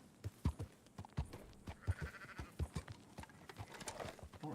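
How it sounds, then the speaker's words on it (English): Sheep bleating in the video game Red Dead Redemption 2, repeated short bleats mixed with soft hoof-like clopping, fairly close and moderately loud, with a faint voice in the background. "I can study the sheep."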